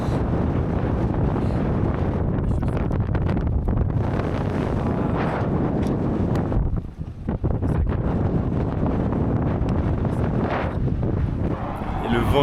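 Strong, hot desert wind in Morocco buffets the microphone in a constant rough roar, with muffled voices faintly underneath.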